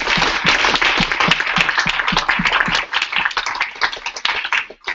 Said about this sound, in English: can I just have a round of applause, a big thanks for everybody